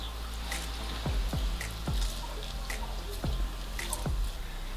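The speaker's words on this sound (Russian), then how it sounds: "И таким образом выдавливаем с кабачка всю жидкость." Liquid squeezed from grated zucchini dripping into a bowl, a handful of soft, close drops at irregular intervals over a quiet background.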